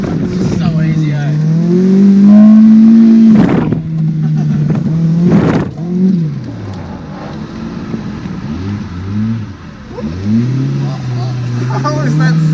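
A Toyota 4AGE-engined drift car driven on a wet Australian street, its engine droning and rising and falling in pitch with revs, with a couple of sharp bursts and people talking in the car over it.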